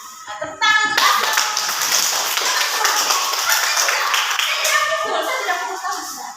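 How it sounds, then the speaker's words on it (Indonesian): A class of young schoolchildren bursts into loud, sustained hand clapping lasting several seconds, with children's voices mixed in over the applause. "Tepuk tangan untuk aku."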